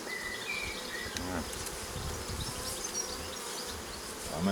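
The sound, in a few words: honey bees buzzing around an open beehive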